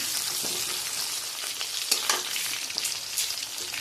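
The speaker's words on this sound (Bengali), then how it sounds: "এই ডিমটার সাথে আলুগুলো ভেজে নিচ্ছি।" Potatoes and eggs frying together in a pan, a steady close crackling sizzle with brief louder spits of oil and occasional stirring scrapes, no voices.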